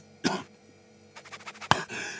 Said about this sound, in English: Is that a bronchial cough?